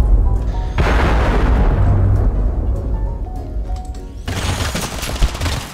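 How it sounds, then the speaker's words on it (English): Orbital strike grenade explosions in the video game Totally Accurate Battlegrounds: a heavy, sustained roar of blasts and rapid fire, booming loudly, easing briefly, then erupting again in a second dense burst. "These are the orbital strike grenades."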